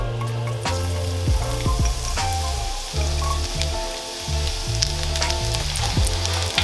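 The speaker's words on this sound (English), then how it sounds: "That's when we're gonna add our garlic." Garlic frying in browned butter in a pan, a busy crackling sizzle with bubbling spatter throughout, heard close and fairly loud with no voices.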